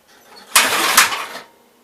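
A 1962 Gravely postal tractor engine cranking over without firing, with old gas and dirty points: one short, loud burst of rough whirring churn lasting about a second, close by and with no talk.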